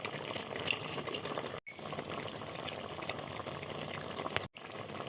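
Okra curry bubbling in a pot, a steady close wet simmer with a constant rolling texture, broken by two brief cuts.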